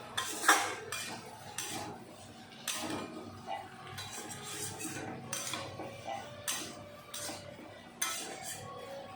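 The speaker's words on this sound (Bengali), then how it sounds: "এখন মশলার সাথে আলু ভালো করে কষিয়ে নেব।" A metal spoon scrapes and clanks against a pot while potatoes are stir-fried in spice paste, with about six distinct stirring strokes that are fairly faint and spaced apart.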